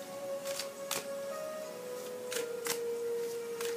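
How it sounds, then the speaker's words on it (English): Oracle cards being shuffled by hand, with soft papery riffles and taps in a few brief bursts over a steady low tone, no talking. "So then I begin to shuffle the cards,"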